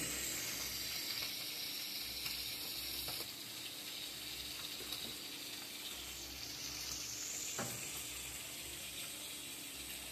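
Pitha rice cakes frying in hot oil give a steady, close sizzle that holds without a break, with no voices.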